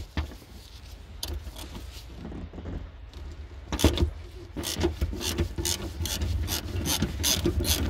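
A ratchet with a 17mm socket clicks away at a rear seat bolt in a 2006–2012 Renault Clio 3, steady close ratcheting strokes that speed up and grow louder toward the end, with no talking.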